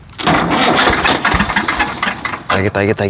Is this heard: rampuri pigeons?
no